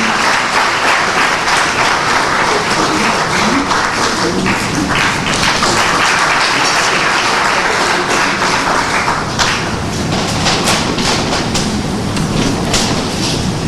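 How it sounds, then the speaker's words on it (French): Loud, dense audience applause fills a closing ceremony hall, a steady unbroken roar of many hands clapping that holds at full strength throughout, with sharper individual claps standing out near the end. "Et voilà, sur vos applaudissements, s'il vous plaît."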